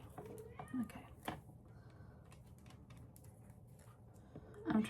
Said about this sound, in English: My cat is crying.